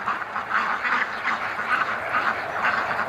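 Muscovy cross duck quacking in a steady run of rasping, nasal calls, close and fairly loud, with no other voices.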